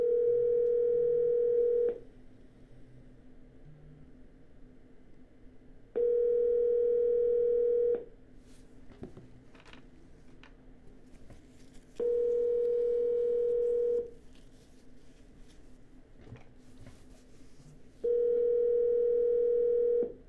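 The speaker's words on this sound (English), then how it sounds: "And we're dialing." Ringback tone from a telephone during an outgoing call: four evenly spaced two-second rings separated by about four seconds of quiet line hiss, clear and close.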